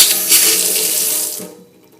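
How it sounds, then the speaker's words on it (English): Water gushes steadily from a newly repaired, formerly leaky sink faucet as a broad hiss, then cuts off abruptly near the end, leaving quiet with no drip. "now we're ready to turn our water on"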